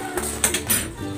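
Cooked chicken breast lifted out of a pot of broth, giving a few short metallic clinks and scrapes of a utensil against cookware, close and moderately loud, with no talking.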